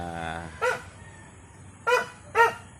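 A dog barks three times, a short sharp bark followed after a pause by two more close together, fairly near with quiet background.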